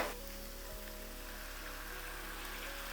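Tomatoes and garlic sautéing together in a pan for drumstick thokku, a continuous close, even hiss of frying with a single small knock near the start and no talking.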